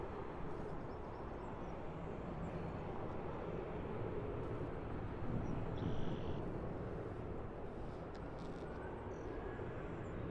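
Jet airliner arriving at Toronto Pearson airport, a steady broadband engine roar that swells slightly midway and holds loud throughout, with no talk.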